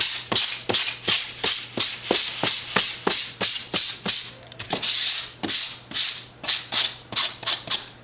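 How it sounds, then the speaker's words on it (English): Repeated back-and-forth sanding strokes on foam wing cores for a composite model plane, each stroke a distinct scratchy rasp in a steady rhythm. The sanding is close and moderately loud, with a brief pause midway and no talking. "I'll sand the cores a little bit to get the fuzz off"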